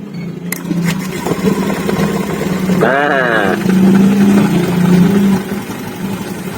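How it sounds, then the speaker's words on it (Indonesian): A Honda Beat ESP K81H motorcycle with a charging fault starts with a short rising crank burst, then settles into a steady mid-pitched idle that swells briefly, close by under ongoing talk. "Oke, sekarang kita hidupkan dan perhatikan di"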